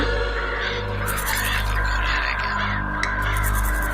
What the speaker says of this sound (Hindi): कौवों की आती उस आवाज का पीछा करते करते सब लोग छत पे पहुंचे